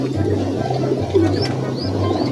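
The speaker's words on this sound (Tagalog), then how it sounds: "Try natin kung anong kalapati ba yan." A pigeon coos low and soft, close by, in a short repeated burst with faint background bird chirps and no talk.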